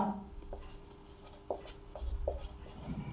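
Pen or chalk writing out a maths expression, with short scratchy strokes and taps in an uneven rhythm, close and faint, under a low voice.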